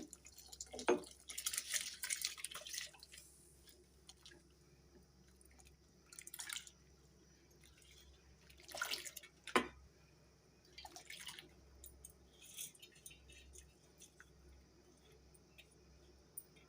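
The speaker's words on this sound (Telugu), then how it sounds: "ఇప్పుడు ఇందులో మనం కడిగి పక్కన పెట్టుకున్న బాస్మతి రైస్ అయితే వేసేసుకుందాము." Washed basmati rice goes into a pot of boiling water, with soft intermittent splashes and pouring sounds against a faint background hiss.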